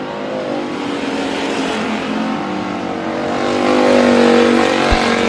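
Race cars at Bakersfield Speedway roar in a loud, continuous engine drone that swells as the pack comes nearer, revving tones layered over one another.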